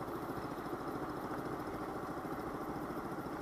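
A Daelim Witty 100 scooter engine runs steadily with a low, even throbbing hum, close and continuous without gaps or talk.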